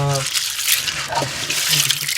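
Tap water running steadily over pinto beans being rinsed in a sink before canning, a close, continuous splashing wash with a brief low voice at the start.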